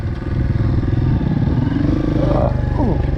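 KTM 500 enduro dirt bike engine idling and revving nearby with a rough, loud single-cylinder chug and some clatter.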